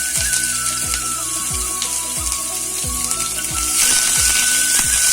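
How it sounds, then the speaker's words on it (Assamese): Finely chopped onions sizzle in two spoons of hot oil, a steady crackling hiss that grows louder partway through, over a faint repeating low hum. "এতিয়া মই ইয়াতে কুচিকৈ কাটি থোৱা যিখিনি পিয়াজ আছে সেই পিয়াজখিনি দি দিম"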